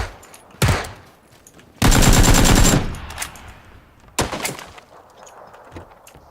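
Bursts of automatic gunfire in a first-person shooter game: a short volley, then a louder sustained burst of about a second, then another short burst, with quieter game noise between.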